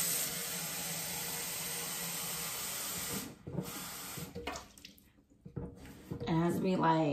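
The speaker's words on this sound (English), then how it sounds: "let's get some water from the sink" Steady broadband hiss of water pouring from a kitchen sink tap for about three seconds, then it cuts off, leaving quieter clinks and a voice speaking near the end.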